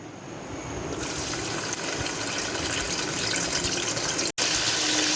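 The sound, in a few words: onions frying in hot oil in a pot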